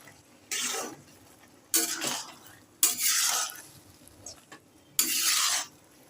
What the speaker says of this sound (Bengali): ভালো করে নাড়িয়ে দিই।